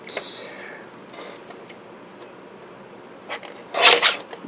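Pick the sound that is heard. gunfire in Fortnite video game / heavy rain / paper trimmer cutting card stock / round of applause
paper trimmer cutting card stock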